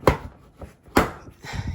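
Front bumper of a 2006 BMW X3 E83 being pulled away from the car, heard as two sharp cracking pops of plastic clips letting go about a second apart, followed by softer rattles and knocks close by.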